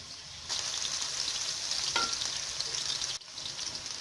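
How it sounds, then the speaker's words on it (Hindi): Okra sizzles in a frying pan, a steady close crackle that briefly swells and dips as the pieces are stirred. "अब मैंने इसे 5 से 6 मिनट तक इसको भूना है, यानी जिसको तला है आपके सामने।"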